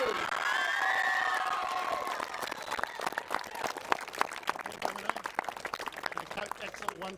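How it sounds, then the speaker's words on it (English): A regatta crowd on day six applauds and cheers for the champion rowing crew from Wanganui High School, opening with a whistle-like tone before scattered claps and shouts build into a sharp, irregular clapping at a distance. "And a big round of applause, please, for our champions"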